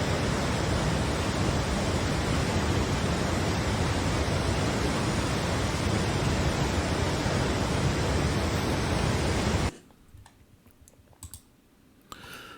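Linville Falls in a stone mountain gorge pours into a big fresh mountain water pool, a loud, steady broadband roar of falling water that cuts off abruptly near the end, leaving faint clicks and rustle.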